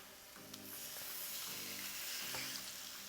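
Salmon fillets hissing and sizzling as they go into a hot non-stick pan, a steady close frying crackle that swells after the first half second and holds.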